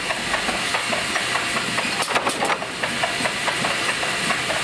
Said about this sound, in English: We also have automatic de-stackers for nesting trays such as thermoform plastic trays, which separate the trays at the same speed and accuracy.